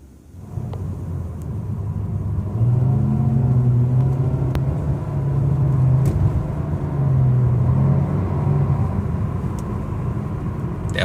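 A 2016 Nissan Maxima accelerates from 0 to 60 on a road, its engine note rising and building into a loud, steady drone with road rumble and a few light clicks inside the cabin.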